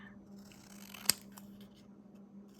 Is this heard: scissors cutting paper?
yes